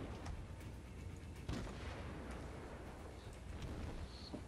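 Naval guns fire in the World of Warships video game, a dense rumbling barrage of booms layered over constant battle noise, with a sharper blast near the middle and no talking.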